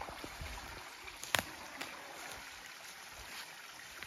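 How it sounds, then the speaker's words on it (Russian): Water from a small mountain stream in the Harz hills runs in a faint, steady hiss and trickle, with a few small splashes and clicks rising briefly above the quiet flow. "Вот я увидела ручей и решила все-таки остановиться."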